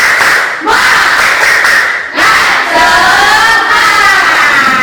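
An elementary school class chants 'tepuk semangat' together, children's voices shouting in unison over a few sharp, rhythmic claps, loud and close.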